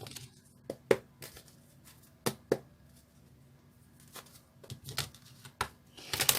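Tarot cards being shuffled by hand: scattered crisp riffles and flicks in short bursts across the stretch, close and moderately quiet, with no talking.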